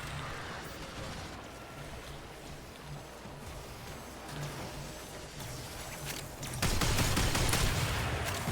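Rapid-fire grenade launcher blasting in the Warframe video game, a dense, steady stream of rumbling shots that swells noticeably louder and harsher in the last couple of seconds, with no voices.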